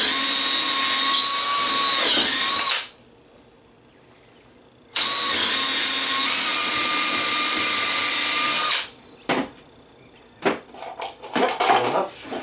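A power drill drilling holes whines loudly for a few seconds, stops, then runs again in a long steady burst before a few short clicks and handling noises.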